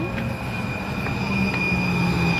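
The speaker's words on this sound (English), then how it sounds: "Oh, the train's here's here. the train, yay! The train's here." A train pulls into a station with a sustained rumble and a high, steady wheel squeal ringing above it, loud and close throughout.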